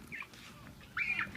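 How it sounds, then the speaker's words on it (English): A bird snagged on fishing line near a caught stingray squawks, two short harsh cries, the second louder and closer, with water-side background noise. "You gonna grab that bird?"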